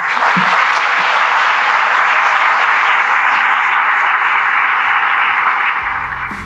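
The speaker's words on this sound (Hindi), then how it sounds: "उनके लिए तो थोड़ा तालियां बजाएं" Sustained audience applause and clapping for a young chess player being honoured, a dense, steady wash of many hands at a loud, even level from start to finish, tapering slightly at the very end.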